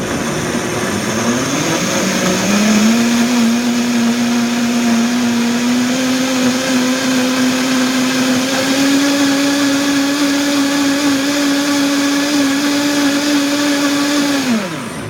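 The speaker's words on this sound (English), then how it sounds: "Essentially, we're grinding our own oats and making a oat flour" A blender grinds oats into flour for gluten-free banana oat pancakes, a loud steady motor whine that ramps up, holds for several seconds, then winds down at the end.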